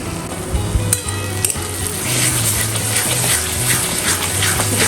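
Tomato, garlic paste and ginger paste sautéing in a pan for egg curry, a loud close sizzle with a low rhythmic hum underneath and occasional clicks of stirring, no speech.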